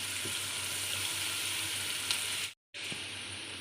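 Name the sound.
onions frying in a pan for pulao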